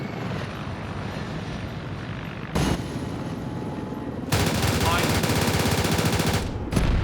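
Helicopter rotor drone in a military-style video game, broken by two loud bursts of machine-gun fire from a gun run, the second burst lasting nearly two seconds before a final short burst.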